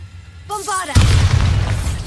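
A loud Bombarda explosion spell goes off in the Hogwarts Legacy video game: a brief shouted voice comes first, then a sudden close blast that rolls into a sustained, rumbling crash of scattering debris.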